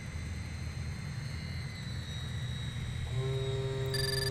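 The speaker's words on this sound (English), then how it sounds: "Gears coming down." Landing gear of a Cessna 337H Skymaster lowers in Flight Simulator X, a whirring mechanism joining the steady hum of the twin engines near the end.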